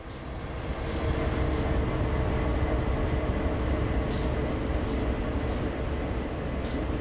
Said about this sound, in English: Why was one of those locomotives making dynamic noises?